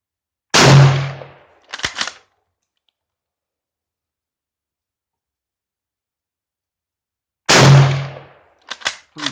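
Two sharp gunshots from a Yugoslavian M48 Mauser rifle at a shooting range, each a loud close blast followed by a few metallic bolt-action clicks, separated by several seconds of silence.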